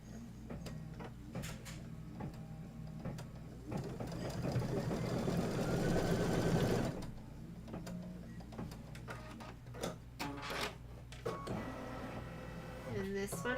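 A sewing machine stitches quilt fabric in a mid-section burst of fast, even mechanical chatter, framed by quieter stretches of handling noise, clicks and room sounds on either side.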